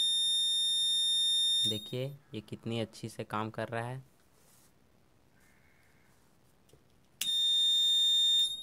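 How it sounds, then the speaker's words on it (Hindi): A homemade fire alarm built around an IR sensor blares a loud, steady electronic buzzer tone, which cuts off while someone speaks and then sounds again near the end. "ये सेंसर डिटेक्ट करेगा और बजर बजने लगेगा।"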